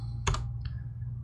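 A few quick keystrokes on a computer keyboard enter a Linux command, a short cluster of soft, close clicks over a low steady hum.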